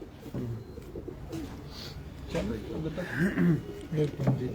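A pigeon coos in soft repeated low phrases close by, heard among other birds in a pigeon keeper's loft.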